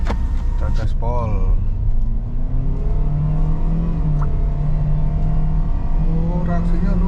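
A 2022 Toyota Veloz Q TSS pulls hard at full throttle, the engine heard from inside the cabin as a loud steady drone rising in pitch, with people talking over it.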